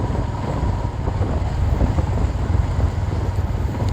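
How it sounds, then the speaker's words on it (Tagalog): Strong wind buffets the microphone in a constant loud roar with gusty rumbling throughout, outside the municipal hall in Palanas, Masbate. "Medyo malakas pa rin yung hangin"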